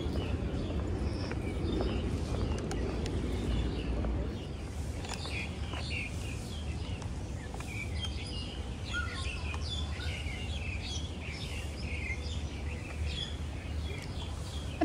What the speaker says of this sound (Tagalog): Madaming kumakantang ibon.